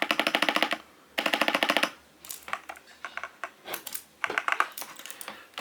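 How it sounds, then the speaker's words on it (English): Typing on an Attack Shark K75 mechanical keyboard with brown switches, close up and crisp. Two rapid bursts of dense keystrokes come first, then slower irregular clacks and short flurries. "Like, I think these are brown switches."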